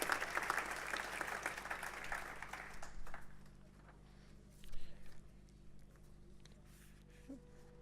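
An audience at a college ribbon cutting ceremony applauds, a dense burst of clapping that fades after about three seconds, leaving scattered claps, shuffling and room noise.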